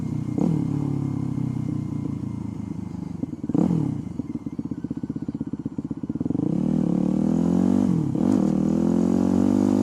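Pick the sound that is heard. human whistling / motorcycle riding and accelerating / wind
motorcycle riding and accelerating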